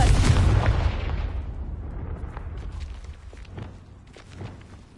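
A Confringo blasting spell explodes in Hogwarts Legacy, a loud deep boom at the start that rolls off into a long fading rumble, with a few faint crackles near the end.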